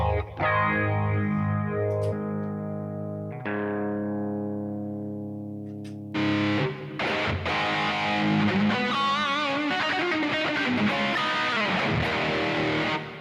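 Electric guitar through a heavy distorted amp patch rings out in two sustained, decaying chords, then launches into loud, gritty, fast playing with dense distortion.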